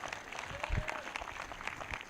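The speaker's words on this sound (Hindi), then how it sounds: "वो ताली बजाकर धन्यवाद कर रहे हैं।" A congregation at a Sunday church service claps in thanks, scattered, fairly faint applause with a voice partly mixed in.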